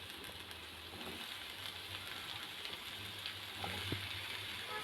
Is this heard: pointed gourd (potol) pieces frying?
yes